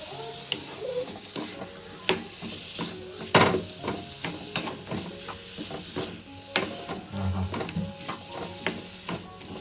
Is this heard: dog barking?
no